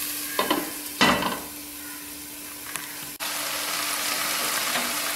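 Sliced mushrooms sautéing over low heat for a mushroom kurma, with a couple of scraping stirs early on, then a steady soft sizzle and hiss that grows fuller after a brief drop.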